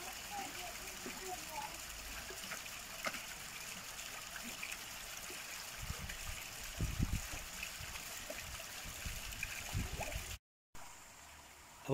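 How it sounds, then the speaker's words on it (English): Water pours steadily from a redirected waste pipe on a Tempest pond filter, a soft continuous trickle and gush at low level, with a few handling knocks near the end before the recording cuts. "just show you how the water is being directed away from the pond."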